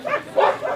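A dog at a sniffer-dog training ground outside Istanbul gives a few short, close barks or yips in quick succession.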